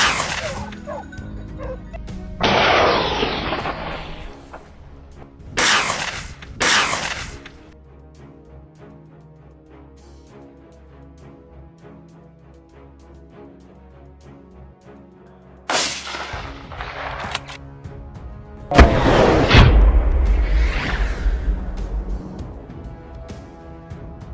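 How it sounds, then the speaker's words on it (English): Gunfire while hunting wild boar gives several loud, sharp bursts spread over the scene, with dogs barking and yelping, a louder boom near the end, and quiet stretches between. "The gun was loaded, the wild boar was exhausted, and I fired decisively."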